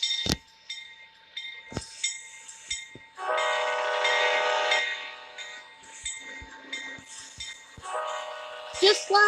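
A train passes in the Roblox video game, with a looping horn tone and bursts of mechanical clanking, interrupted by sharp clicks and short electronic game sounds.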